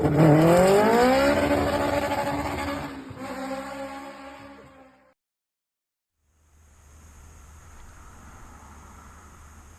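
A Honda Civic EJ6 with a new engine revs hard on a touge mountain run, its loud, close engine note climbing through the gears in rising sweeps, then cutting to near silence before a faint, steady idle-like rumble returns.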